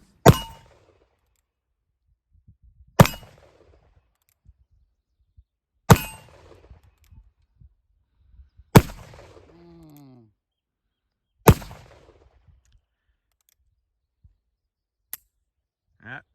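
An original 1880-made Colt 1873 revolver fires five loud, sharp single shots spaced about three seconds apart, each cracking out then fading, with a faint metallic ring after one shot and quiet handling sounds between.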